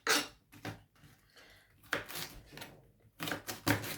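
A knife slices red cabbage into small sections on a board, giving crisp, crunchy cuts in three close bursts separated by short pauses.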